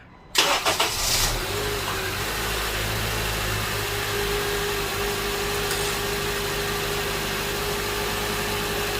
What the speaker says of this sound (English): we're just gonna quickly start the engine here, see if we can duplicate that noise